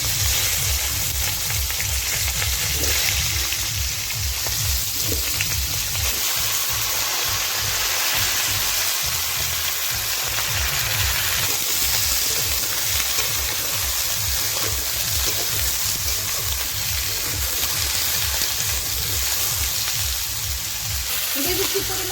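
Cauliflower, potato and aubergine with whole cumin fry in fish-frying oil, a loud, steady close sizzle that continues throughout with faint stirring underneath.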